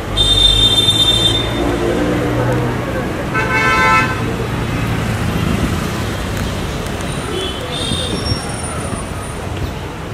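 A car pulls up on a busy Mumbai street in Andheri Lokhandwala and honks in several short blasts amid traffic rumble and crowd noise, with people talking nearby.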